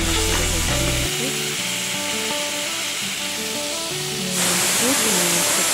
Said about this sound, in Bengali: তারপরে চিংড়ি মাছগুলো ভেজে নিচ্ছি